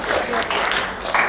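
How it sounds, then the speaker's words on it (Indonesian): Brief applause in a classroom for a student group, a short burst of clapping from several students with voices mixed in. "Tepuk tangan buat kelompok ini."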